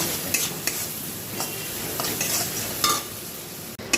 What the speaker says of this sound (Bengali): এইভাবে কষাতে কষাতে